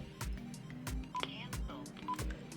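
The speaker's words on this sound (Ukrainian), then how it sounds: "тобто це є звук клавіатури" Short electronic keypad beeps from a Quansheng UV-5R Plus radio sound a few times at a moderate level, mixed with low thumps and faint background noise.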